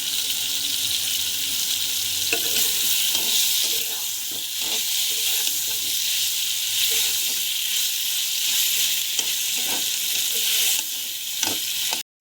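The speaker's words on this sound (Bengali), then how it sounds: "তেলে রাখা আলুগুলো দিয়ে দিলাম এখন সুন্দর করে আমরা আলুটাকে কষিয়ে নেব" Potatoes sautéing with garlic and spices in hot oil, a loud continuous sizzle with scraping stirs and clinks of a utensil against the pan, ending abruptly.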